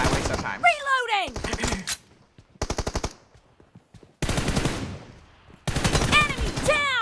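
Rapid bursts of automatic gunfire in a zombie-fighting shooter video game, coming in several loud rattling volleys separated by short pauses, with in-game voices and effects between the bursts.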